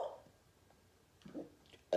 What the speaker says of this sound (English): So I guess the burps coming up right now.